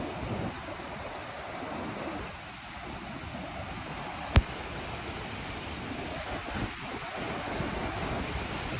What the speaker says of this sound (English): When the wave comes, bring it.